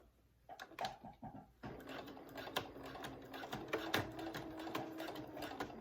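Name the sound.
sewing machine stitching a zipper into a dress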